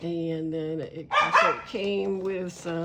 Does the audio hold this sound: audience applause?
no